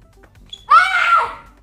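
A child gives a single loud shout inside an old building in Semarang's Old Town, the cry ringing out for about a second and trailing off with a reverberant echo in an otherwise quiet space.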